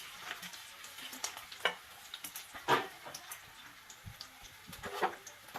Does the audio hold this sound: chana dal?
yes